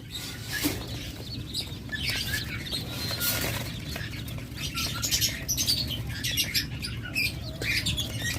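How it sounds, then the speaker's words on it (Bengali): King quail chirp and squawk repeatedly while wings flap in short bursts, a busy flock close by with no talking. "চমৎকার ক্লাসিক কোয়েল"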